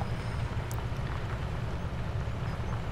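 A 440-horsepower tractor engine at full throttle in Farming Simulator 17, heard as a steady low droning rumble, continuous and moderately loud, with no talk.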